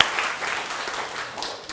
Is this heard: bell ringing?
no